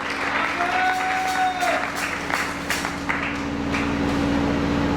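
A church congregation applauds loudly and steadily for the whole stretch, with dense clapping and some crowd voices mixed in.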